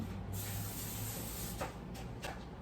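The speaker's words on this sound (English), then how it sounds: "now we are spraying a pan" A can of cooking spray sprays onto a pan in a sustained hiss for over a second, followed by two short bursts, close by.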